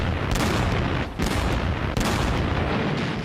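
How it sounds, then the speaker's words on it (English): World War I artillery fire, a dense continuous rumble of booms and blasts with rolling bursts and brief dips, loud and unbroken throughout. "And this were the artillery."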